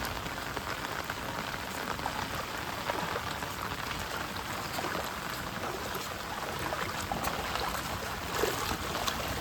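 Heavy rain pours steadily onto a flooded road, a dense, even hiss of drops striking water that holds constant throughout without any voices.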